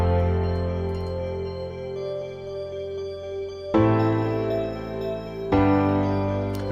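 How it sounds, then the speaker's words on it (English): Layered synthesized tones ring out with bell-like and piano timbres, sustaining in a steady loop with two fresh, stronger chord hits partway through. "So the bells and the piano sound like this."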